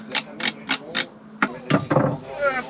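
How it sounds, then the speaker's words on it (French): An ENKES 32 ASC sailboat winch, freshly serviced and clean, gives four crisp, evenly spaced ratchet clicks up close, followed by a few looser clicks and a brief voice at the end. "On entend un doux bruit de cliquet tout propre."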